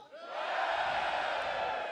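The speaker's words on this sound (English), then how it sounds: "give me a cheer if you're into live wrestling before" Live wrestling show crowd raising a loud, sustained cheer of whoops and yells that swells quickly and holds steady indoors, with no single voice standing out.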